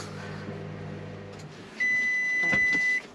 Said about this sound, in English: It beeps. You have a machine that beeps.